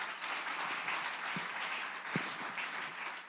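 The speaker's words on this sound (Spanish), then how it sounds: "Vamos a darle un aplauso a Jesucristo." A church congregation applauds together in a steady, full burst of many hands clapping, a couple of sharper individual claps standing out briefly, with no speech over it.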